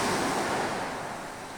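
Ocean surf at Cikembang tourist beach gives a steady, loud, broadband roar of breaking waves with some wind noise, alone and without talk.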